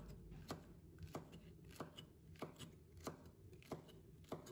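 A knife slices half a red chili pepper into thin strips on a cutting board, seven crisp evenly spaced taps in a steady rhythm, close and quiet.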